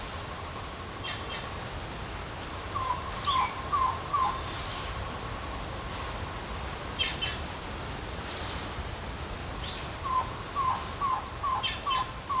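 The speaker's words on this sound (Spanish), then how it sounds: "podrá descubrir entre las ramas el tocororo, el pájaro nacional de Cuba" A tocororo, Cuba's national bird, calls from among the branches in short repeated bursts of notes that come in clusters over a soft, constant outdoor hiss, with sharper chirps from other birds mixed in.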